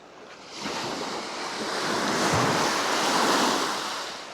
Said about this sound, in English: The tide's romping in now